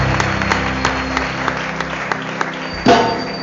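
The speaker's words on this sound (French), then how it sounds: "Alors qu'il avance, tu acclames très fort pour le Seigneur" Steady applause fills a church worship service for the Lord, close and even, then breaks off suddenly near the end into a brief shout.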